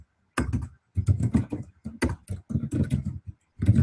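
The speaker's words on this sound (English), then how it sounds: "I know my typing is really loud when I'm presenting" Loud, close typing on a computer keyboard during an online presentation, bursts of quick key clicks in uneven clusters with short pauses between them.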